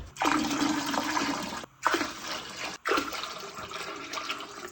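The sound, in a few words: water poured from a one-litre jug into a toilet tank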